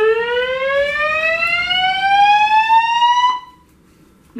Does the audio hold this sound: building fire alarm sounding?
yes